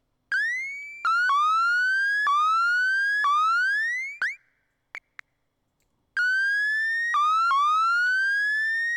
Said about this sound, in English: You can make the ping short or long, and you can make it go up, an upwards ping or a downwards ping.